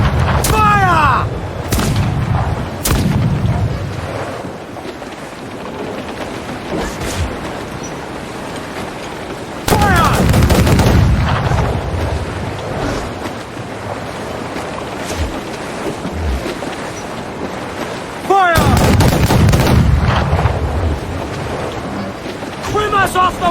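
Ship cannons in the game Assassin's Creed IV Black Flag fire in three heavy booming volleys spaced several seconds apart, with rumbling tails and crashing waves between, while a voice shouts orders over the noise.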